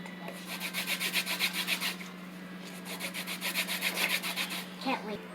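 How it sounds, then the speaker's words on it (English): Lemon zest is rubbed against a grater in quick, rhythmic scraping strokes, two bursts separated by a short pause, close and fairly quiet over a low steady hum. "So I grated my lemon zest."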